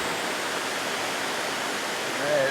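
A long run of waterfalls, tumbling like rapids beside a trail, makes a steady, close rushing roar of water that fills the whole stretch without a break.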